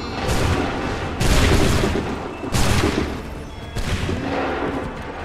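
Cannon and massed musket volleys boom out in an Assassin's Creed 3 battle, four heavy, loud blasts spaced about a second apart, each with a rolling rumbling tail and no talk over them.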